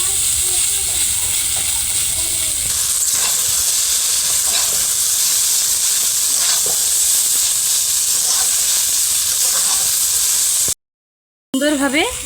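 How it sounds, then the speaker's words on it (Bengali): Chow mein stir-frying on a hot pan gives a loud, steady hiss and sizzle for about ten seconds, with scraping clatters throughout, then a brief silence and a short burst of noise at the end. "সুন্দরভাবে চাউমিনটা ভাজা হয়েছে"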